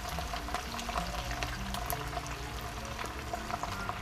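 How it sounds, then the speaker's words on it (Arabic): Boiled spaghetti going into a pan with garlic and olive oil, a continuous close sizzle and bubbling hiss that stays steady and fairly loud the whole time, with no one talking. "وهننزل بالمكرونة سباجيتي المسلوقة"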